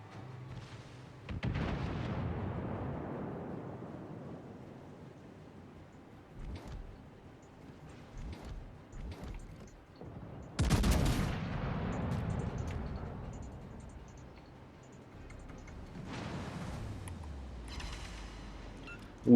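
In the World of Warships video game, naval guns fire from battleships as heavy booming salvos, several deep blasts with rumbling tails at irregular intervals, loud and close, with no voices over them.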